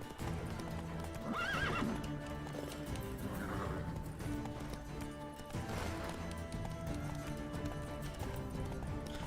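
Hooves of a horse in The Witcher 3: Wild Hunt clip-clop steadily while it gallops, with loud neighs and whinnies rising over the continuous game soundscape.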